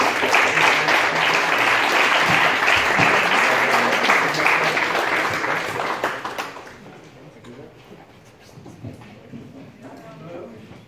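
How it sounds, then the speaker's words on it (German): Loud audience applause for martial artist Mustafa Aini at a short film festival, dense clapping for about six seconds before fading away into a quieter room with faint sounds. "um einen großen Applaus für Martial Artist Mustafa Aini."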